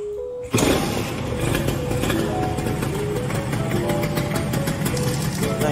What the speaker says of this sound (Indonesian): Tapi ini motor masih tetap nyala sih sebenarnya.